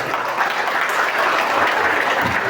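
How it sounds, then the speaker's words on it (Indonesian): Steady, dense applause from an audience at an Isra Mi'raj commemoration gathering, loud and continuous throughout with no talk over it. "Kita kasih aplaus."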